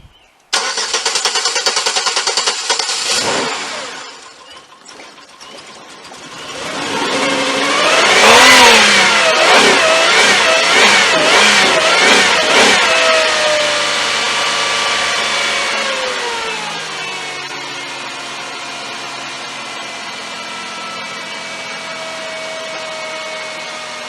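A Ford Maverick with a history of hard starting cranks loudly for a few seconds, then catches. The engine revs up strongly and holds high before dropping back to a steady idle, close and without talk.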